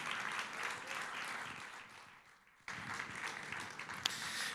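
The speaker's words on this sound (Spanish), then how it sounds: "Fuerte ese aplauso de alabanza al Señor." A church congregation claps in praise, a steady wash of applause that thins and fades, then resumes abruptly at full strength with a sharp clap standing out near the end; no speech.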